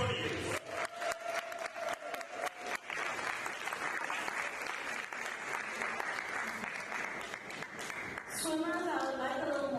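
Applause breaks out among swimmers and guests at the St Lucia Aquatic Federation Awards of Excellence, with sharp individual claps over a dense crowd patter. Toward the end the clapping thins and a voice speaks over it.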